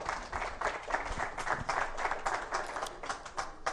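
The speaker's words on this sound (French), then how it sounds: "On peut applaudir pour vous-même" A crowd applauds at a gathering, a steady patter of many hands clapping at moderate volume with slight surges in rhythm throughout.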